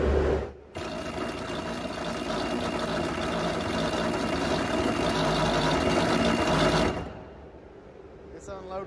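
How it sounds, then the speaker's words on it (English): A steady, loud mechanical buzz from a vibrator on a hopper bottom trailer unloading dry distiller's grain runs for about six seconds, then cuts off abruptly, leaving quieter outdoor background. "We got to go over here and turn this vibrator on."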